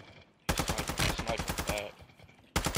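Gunfire in the Warzone video game, a sniper shooting from the mountains: a loud, rapid volley of sharp shots fired in quick succession for about two seconds, with a second burst starting just as the clip ends.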